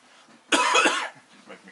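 A single loud, harsh cough bursts out near the mic, lasting about half a second, with quiet talk murmuring faintly before and after.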